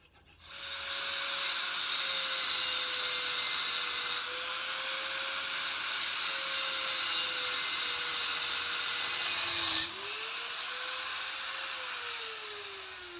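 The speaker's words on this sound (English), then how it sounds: "getting that angle grinder to run inside this line" An angle grinder cutting a score line into a steel anvil to make a hardy hole, a loud continuous high whine with a steady tone that dips briefly under load, running without speech.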